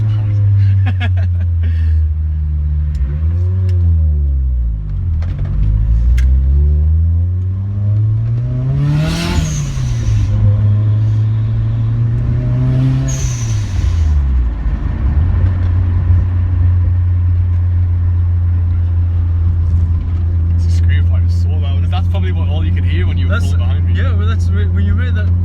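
Nissan Silvia S14a with a screamer pipe, its engine droning loud and close, revving up and down in several sweeps over a steady idle-like tone, with people talking over it.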